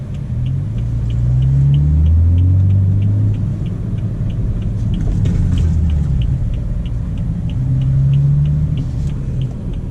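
BMW F30 M Sport sedan driving on a road, a loud steady engine rumble and tyre roar from inside the cabin, rising and settling as it accelerates, with a regular faint ticking throughout.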